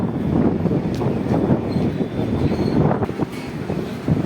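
The Chhapra Express bound for Mumbai rolls in at platform 1 of Mariahu railway station in Jaunpur, a loud, close, continuous rumble of wheels and carriages mixed with gusty wind buffeting.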